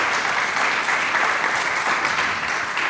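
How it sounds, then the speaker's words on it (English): Sustained applause from a conference audience fills the room, steady and dense with many hands clapping, no voices over it. "Please give her a round of applause"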